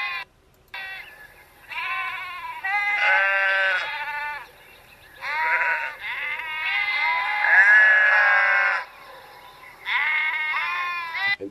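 Sheep bleat in a series of loud, quavering calls, several overlapping and separated by short pauses, close and clear with no other sounds around them.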